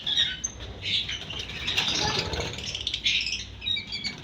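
A baby parrot in an indoor bird room gives repeated high, scratchy squawks and chirps, fairly close and steady, with no clear talk over them.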